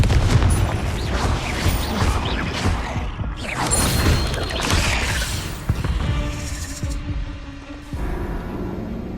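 Confringo fire spell explosions in the video game Hogwarts Legacy, a dense run of loud booms, crashes and crackling impacts over several seconds that thin out toward the end.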